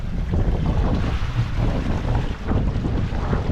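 Steady roaring wind buffets the microphone over rushing, churning rough sea, with waves surging against a moving sailboat throughout.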